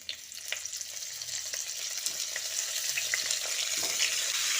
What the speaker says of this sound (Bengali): এবার ফুলকপিটাকে ভালো করে নেড়ে চেড়ে একটু হালকা বাদামি করে ভেজে নেব